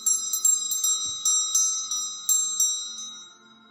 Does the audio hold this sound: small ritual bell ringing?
yes